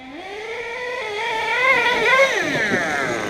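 A Savage motorcycle engine revs up steadily and loudly, its pitch climbing then dipping slightly, heard close and alone without talk.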